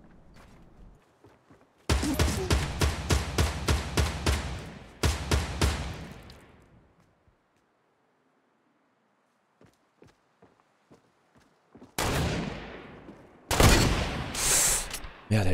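Gunfire in the video game Fortnite rings out in loud, close bursts, a couple of heavy sniper rifle shots among rapid volleys, separated by a quiet stretch with faint clicks and footsteps.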